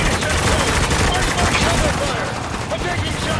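Dense, continuous rapid light machine gun fire in the video game Spec Ops: The Line fills the whole stretch, loud and close, a sustained automatic burst with no pauses.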